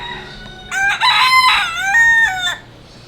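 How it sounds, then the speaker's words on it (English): A single rooster crowing nearby on Vieques island, Puerto Rico, one long loud cock-a-doodle-doo with a rising then falling call over quiet outdoor background, no talk. "So there's some goats and roosters by the neighbor."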